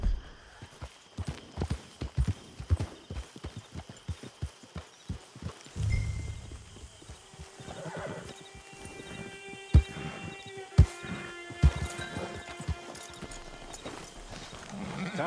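Horse hooves clip-clop in a steady walking rhythm in Red Dead Redemption 2 Online, close and fairly loud, with a few sharper knocks and faint ambient tones later on.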